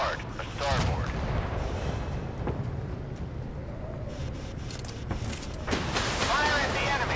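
Warship guns fire at an enemy in the naval combat game Force of Warships: deep booming blasts and rumbling roars that swell near the start and again at the end over a continuous engine drone.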